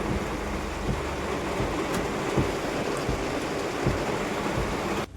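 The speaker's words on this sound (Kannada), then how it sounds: "ನೋಡಿ ಹೆಂಗೆ ಹೊಡಿತಾಯಿದೆ ಮಳೆ." Steady, dense wash of heavy rain pouring down near Narayanapura, a continuous broadband hiss with low rumbling patter, no voices, ending abruptly.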